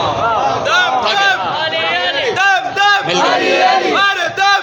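A crowd at a Shia majlis mourning gathering chants religious slogans together in loud, rhythmic collective calls, voices rising and falling in repeated waves close by.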